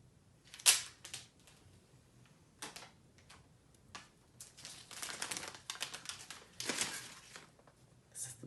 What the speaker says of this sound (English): I know a lot of you like to hear the sound of the plastic opening, so I'll just do that right now.